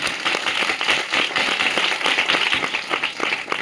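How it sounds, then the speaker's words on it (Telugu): A church congregation claps loudly and steadily in a dense, continuous burst of applause, with no voices rising above the clapping. "బిగ్గరగా చప్పట్లు కొడదాం."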